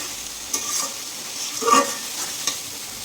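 Chicken meat stir-fried in a pan for a special chicken curry, with a soft steady sizzle and a few scraping stirs of the spatula, close and moderately quiet with no talk.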